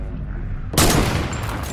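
Gunfire aimed at a cube in a sandbox video game: a sudden loud burst of shots breaks in after a quiet start, then rattles on with sharp bright cracks to the end.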